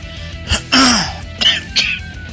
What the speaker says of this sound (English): you'll have to pardon the coughing